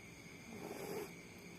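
A sleeping baby snores softly with a pacifier nearby, a single faint, drawn-out nasal breath rising and fading against quiet room background.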